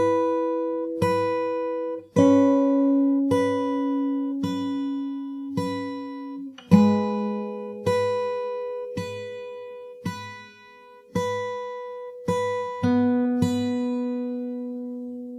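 Fingerstyle guitar with a capo playing the intro of a song, clean plucked notes and chords ringing out in a slow, even rhythm, close and alone with no talking.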